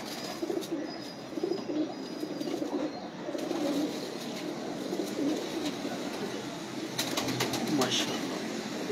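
Champion breed pigeons coo in a steady murmur throughout, with a few sharper bird calls and faint wing flutters mixed in near the end, all set against a low background of outdoor noise.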